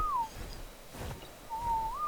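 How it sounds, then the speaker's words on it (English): A thin, steady whistled tone in the game Ark: Survival Evolved, a short note, a pause, then a longer wavering note over a low background hum. "here I go, frantically whistling for Lompoc to run away."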